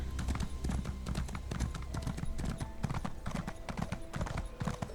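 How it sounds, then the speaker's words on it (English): A summoned horse in The Elder Scrolls Online clip-clops with steady, close hoofbeats in a rapid rhythm, faint background game sounds beneath. "Oh, now you want to summon the horse."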